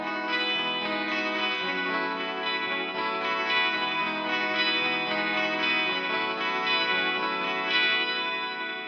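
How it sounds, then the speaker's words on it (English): Guitar run through an Alexander Pedals Syntax Air pitch shifter set to perfect fifths, a sustained, shimmering layered chord with effect wash, steady and close with no talking. "my pitch shifter is the Syntax Air from Alexander Pedals"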